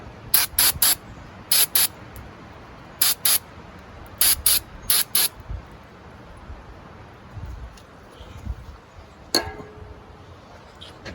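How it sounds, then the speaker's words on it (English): Quick hissing bursts of brake cleaner spray fire in short groups of two or three, loud and close, followed by quieter faint rustling and a small clink. "A little bit of brake clean. I'm gonna spray that down."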